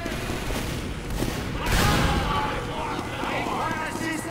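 Sentry turret gunfire in the video game Team Fortress 2, rapid continuous shots close by with a louder burst partway through, while players talk.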